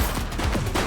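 Gunfire from the police video game The Precinct: dense, continuous shooting that fills the short moment at steady loudness, with no clear gaps between the reports.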